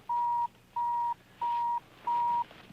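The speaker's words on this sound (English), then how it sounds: "That sound you hear is the electronic ignition key and seatbelt warning." A 1983 Buick Skyhawk's electronic ignition-key and seatbelt warning chime sounds four evenly spaced, clear mid-pitched beeps, each about a third of a second long, alone in a quiet cabin.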